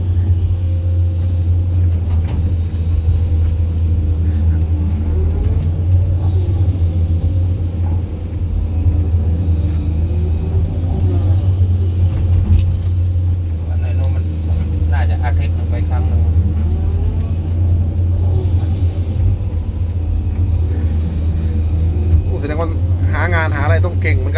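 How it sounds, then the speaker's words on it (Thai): A SANY SY205C excavator engine scooping rock gives a loud, steady low diesel rumble throughout, with slight surges in load and people talking over it. "ตักหินอยู่"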